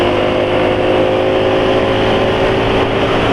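A motorcycle engine, freshly refilled with Kendall GT-1 Max oil, idles in a continuous, loud, even drone with no breaks.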